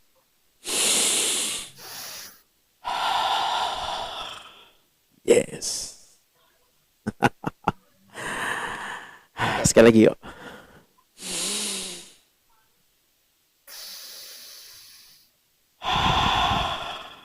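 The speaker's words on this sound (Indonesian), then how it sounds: "Coba abang tarik napas sekarang." Deep breaths during a guided breathing exercise for counseling therapy, with separated long inhales and exhales, some nasal sniffs and sighs, alternating with a person speaking brief instructions.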